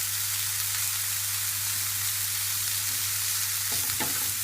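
An onion fries in a pan over medium heat, giving a steady, close sizzle with a constant hiss, and a couple of brief stir or scrape sounds come near the end; nobody speaks.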